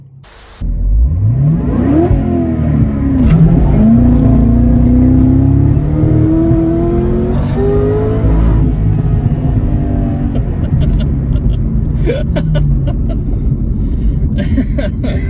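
A 2005 Corvette convertible accelerating hard from inside the cabin, engine rising through the revs in a loud, close roar with gear changes, then easing to a steady rumble as faint voices and clicks come in near the end.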